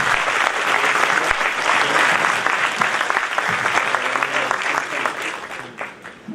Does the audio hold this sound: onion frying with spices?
no